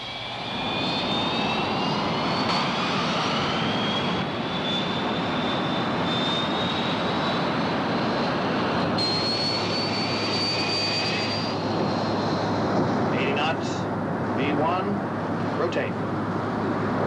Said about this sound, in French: Vol 34, vous avez l'autorisation de décoller, à vous. Vol 34, on roule.